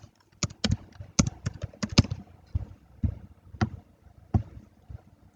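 Clicky keystrokes on a computer keyboard, typed in short irregular bursts with brief pauses, close and fairly quiet, with no talking.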